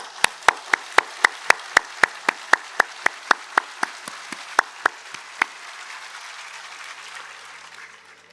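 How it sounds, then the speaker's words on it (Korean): A church congregation at a Sungrak Church summer retreat claps in loud unison, about twenty sharp even beats in quick succession, then breaks into softer scattered applause that fades away. "우리 박수 한번 크게 합시다"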